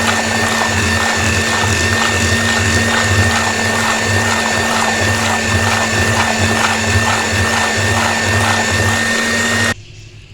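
A blender grinds cooked mustard greens for sarson ka saag, a loud continuous motor whine with a churning, pulsing wash from the contents, cutting off abruptly near the end.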